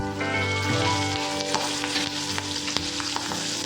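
Curry leaves hit hot oil for sambar with a loud, crackling sizzle that spits and pops continuously, close up and with no voices.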